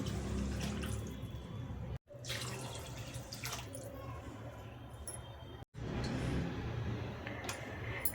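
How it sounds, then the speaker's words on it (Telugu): Water is poured from a glass over rice for veg biryani, two glasses for one of rice, a steady close pour with brief pauses between glassfuls. "ఒక గ్లాస్ రైస్ కదా రెండు గ్లాసుల నీళ్ళైతే పోసుకుంటున్నాను"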